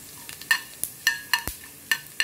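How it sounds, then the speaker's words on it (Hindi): Coriander, cumin and fennel seeds roasting in hot oil in a pan, sharp irregular crackles and pops in quick succession, close up with no talking. "बस अब पटपट आवाज़ आने लगा,"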